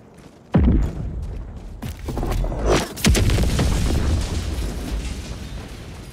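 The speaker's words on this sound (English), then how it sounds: "Firing orbital strike." An orbital strike in the video game Helldivers 2 lands as a sudden heavy boom, followed by further deep blasts and a roaring rumble that lingers loud and close until the end.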